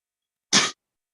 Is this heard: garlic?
no